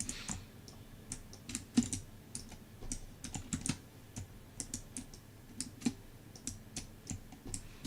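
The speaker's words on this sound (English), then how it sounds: "Angry dispatch typing noises." Fast, irregular typing on a computer keyboard, crisp key clicks in quick bursts, close and fairly quiet, with no one talking.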